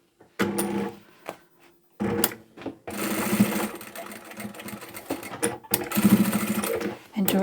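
Short bursts of sewing machine stitching on the seam of a supermarket shopping tote, rattling in quick stop-start runs with a voice talking over parts of it.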